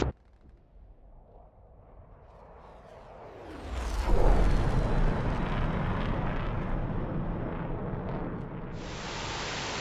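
Missile explosions in a DCS flight simulator air-combat game: a low engine rumble swells into a loud, heavy blast around four seconds in, followed by a sustained roaring wash of noise with a sharp hiss near the end, no talk.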